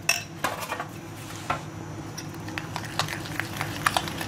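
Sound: stirring meat in marinade in a dish

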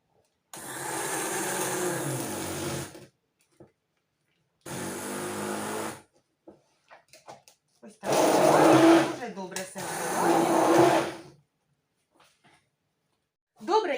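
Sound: immersion blender mixing

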